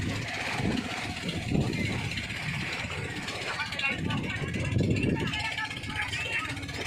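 A boat engine drones steadily throughout a trip to Guiuan in windy, rough-sea weather, a constant low rumble with people talking over it.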